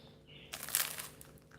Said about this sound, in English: you can listen for the crunch